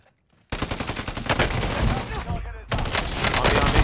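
Rapid bursts of automatic gunfire in a first-person shooter video game, loud and dense, with a short silence before and a brief break midway.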